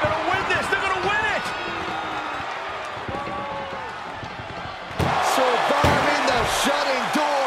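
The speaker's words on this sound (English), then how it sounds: "Pushing with every fiber of their being to slam the door." During a pro wrestling ambulance match, the ambulance door is slammed shut with a sharp, heavy bang partway through, over excited commentary and arena crowd noise.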